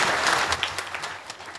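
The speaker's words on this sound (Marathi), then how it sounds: "जोरदार टाळी" An audience at a kirtan claps loudly in a dense burst that is already at full strength, then thins into scattered claps, with a faint voice underneath.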